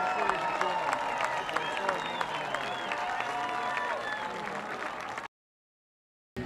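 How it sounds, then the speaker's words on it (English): Sustained crowd applause and clapping at a high school youth football night event, a dense, steady wash of many hands with some cheering, cutting off abruptly after about five seconds. "How about a big round of applause to all of our future Norskies on DeForest Youth Football"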